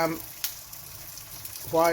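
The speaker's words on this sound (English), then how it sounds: "I'm frying cheese?" Cheese sizzles steadily in a hot pan, a soft constant crackle, with brief voices at the start and end.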